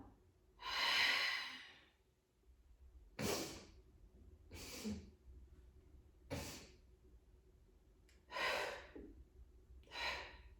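A person does belly flutter breathing, with about six breathy exhales and inhales spaced a second or two apart, close and fairly quiet, with no talking.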